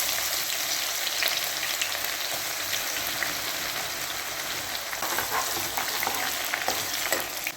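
Mustard seeds, dried chillies and crushed garlic fry in hot oil with a dense, steady sizzle and crackle, close and loud without pause.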